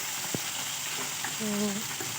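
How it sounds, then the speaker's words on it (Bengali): Fish frying in a pan while being flipped over, a continuous close sizzle with a sharp tap of the spatula and a faint tonal squeak partway through. "এখানে মাছের এক পিট লাল হয়ে গেছে আর এক পিট উল্টে দিচ্ছি"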